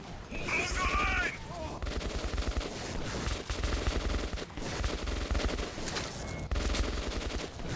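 Sustained gunfire in the video game Metro 2033 Redux, dense bursts of automatic shots rattling close and loud for several seconds, with game voices shouting over the shooting.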